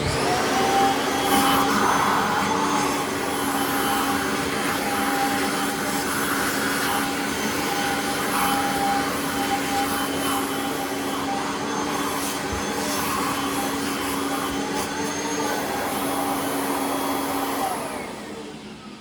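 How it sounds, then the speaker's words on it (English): A Bissell CleanView vacuum cleaner running steadily, a loud, close, continuous whine and rushing airflow with a sustained motor tone, easing down briefly at the very end. "So now I'm going to be vacuuming this."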